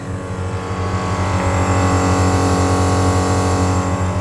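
A Total Control portable air compressor runs steadily while inflating truck tires, a loud, continuous motor drone with a low pulsing hum that holds constant throughout, with no talking.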